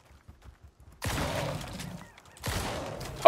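Two loud shotgun blasts fired at a bear in the survival video game Icarus, about one and a half seconds apart, each a sharp crack followed by a short rumbling tail, with near silence before and between them.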